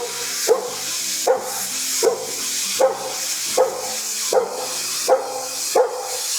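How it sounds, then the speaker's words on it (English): Joey the dog barking and whimpering, eight evenly spaced barks with whiny tails in a steady rhythm, close and loud over a hissy background. "here's a romantic rendition of a love story by Joey the Wonder Dog."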